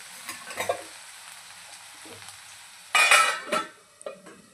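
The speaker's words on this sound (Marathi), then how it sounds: "वाफेतच आपण हे बटाटा थोडंसं शिजवून घेणार आहोत।" Potato pieces for bhagar upma cook in a pan and get stirred, giving soft sizzling with scraping spoon strokes and a sharper burst of sizzle and clatter toward the end, close and alone without talk.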